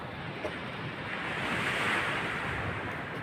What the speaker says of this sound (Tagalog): Gawa ng malalaki ang basag ng alon dito sa tabi.